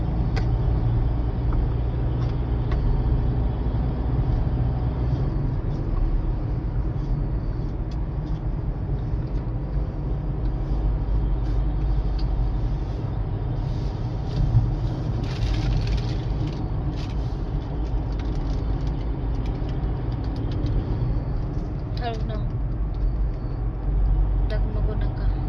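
A vehicle climbs the Tamini ghat road, its engine and tyre noise forming a steady, close, continuous rumble for the whole stretch, with a voice talking over it.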